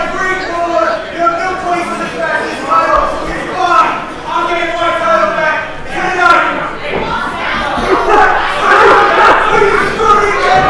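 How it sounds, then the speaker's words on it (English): A crowd at a UWA Elite Brawl For It All 2017 wrestling show chants in unison, a loud rhythmic wave of many voices repeating the same phrase in steady bursts. "What a great chant this crowd has come up with."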